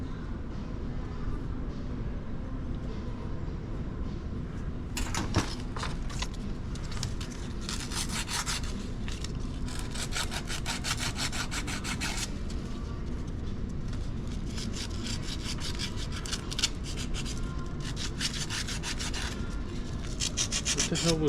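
Parts of a Besam revolving door mechanism, suspected of a bad gearbox, rub and scrape against each other in a steady, gritty grinding with repeated rasping strokes that stay close and fairly loud throughout.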